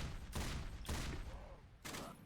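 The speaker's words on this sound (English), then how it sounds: "He seems to be conserving his ammo and shooting only when necessary, because there's a lot of zombies coming in." Bursts of heavy 50 cal gunfire in the Roblox zombie shooter Those Who Remain come in three loud, close volleys separated by short pauses.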